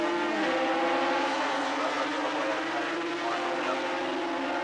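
A British Armstrong 250cc racing motorcycle with a Rotax engine screams past at full throttle during the 1983 Australian Grand Prix at Bathurst, a loud, sustained high-revving engine drone held steadily throughout with no talk over it.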